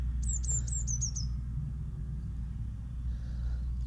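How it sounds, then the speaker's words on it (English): Wild birds outdoors on a winter wildlife outing, a quick series of high chirps early on, then quieter, over a constant low rumble of distant machinery. "Hopefully see a few birds. You can probably hear them in the background"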